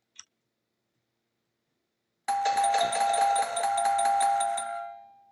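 A doorbell sound effect from Zapsplat plays in a p5.js sketch: a sustained, bright chiming ring with rapid repeated strikes that fades out after about three seconds, preceded by a faint tiny click.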